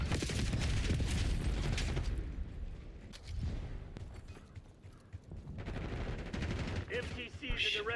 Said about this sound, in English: There's bullets flying.